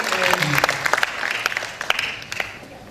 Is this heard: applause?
yes